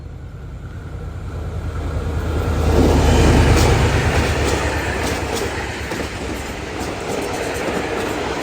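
A train on Thailand's northern line rumbles past up close with rhythmic clickety-clack of wheels on rail joints, swelling to a peak and then holding a steady roar.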